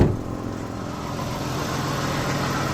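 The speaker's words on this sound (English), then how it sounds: "And then you hear it sputter a little bit." Engine of a 2003 Nissan Pathfinder in two-wheel drive running with a rough, uneven sputter, a steady low rumble heard up close with no talking.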